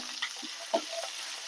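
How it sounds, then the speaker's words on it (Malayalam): Cooked green gram being stir-fried in a pan with curry leaves, a soft, quiet sizzle with a few light scrapes and stirring taps over a short stretch. "ഇത് നന്നായി വറുത്ത് കൊടുക്കാം"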